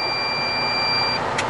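A steady high-pitched electronic beep tone from a snowplow truck drones continuously over a low engine hum, then cuts off near the end.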